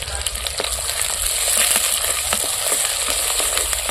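Shallots sauté in hot oil with garlic, green and dried chillies and curry leaves for a village-style raw banana kara kuzhambu, making a loud, dense sizzle broken by repeated spatula strokes and crackles.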